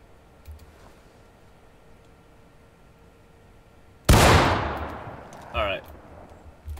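A single loud gunshot from a Civil War-era firearm in War of Rights, a sharp blast with a decaying tail, followed by a smaller crack a second later, standing out against quiet background noise.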